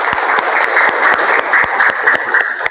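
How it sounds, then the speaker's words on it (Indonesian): Students in a junior high school classroom clap together in sustained, even applause, a dense stream of hand claps heard close and loud without speech. "Oke, tepuk tangan dulu yuk."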